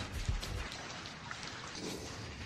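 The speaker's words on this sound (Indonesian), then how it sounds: "Mau kemana hujan selebat ini?" Heavy rain falls steadily as a dense, even hiss that runs unbroken throughout, with a few low thumps near the start.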